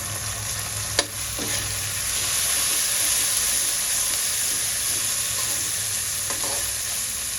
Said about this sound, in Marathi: यावर आपण वाफवलेले मटार घालूया.